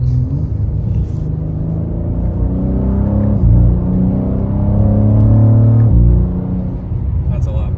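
A BMW G87 M2 with a Valvetronic catback exhaust rumbles at close range with its valves open, blipping and revving twice in a deep idle, while people talk nearby.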